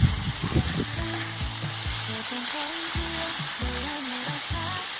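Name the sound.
stir-frying minced pork khua kling with kaffir lime leaves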